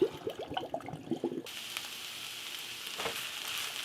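Cooked pasta draining with a rushing pour of water into a sink after a brief stretch of clattering and bubbling, while sausage cooks nearby, steady and fairly faint.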